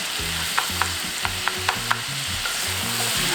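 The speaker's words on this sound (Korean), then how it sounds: "마늘 넣고는 이 팬이 달아있기 때문에 다 타요 이렇게 볶아서" Steady sizzling of garlic frying in butter in a hot pan, with a utensil clicking and scraping several times as it is stirred; no voices.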